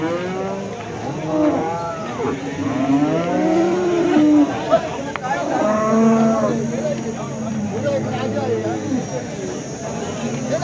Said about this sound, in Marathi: आपण पाहू शकता ही देखील शेतकरी बांधवांची गाई आहे